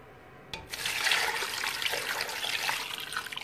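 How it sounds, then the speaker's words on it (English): Water pours steadily into a pot of salted garden eggs after a short knock, a continuous splashing stream that holds for a few seconds at close range. "And then add water."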